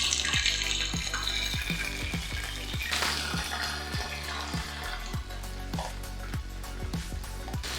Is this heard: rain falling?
no